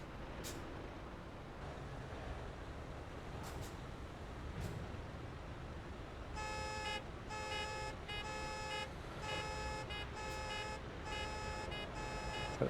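Car horns in Euro Truck Simulator 2 on a road in Greece, several toned honks sounding in repeated bursts over a low steady engine rumble, moderately loud and fairly close.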